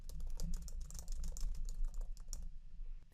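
Quick, close clicking of a computer keyboard as a campaign name is typed, a rapid irregular patter of keystrokes with no talk.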